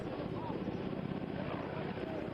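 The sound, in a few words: rescue helicopter hovering over river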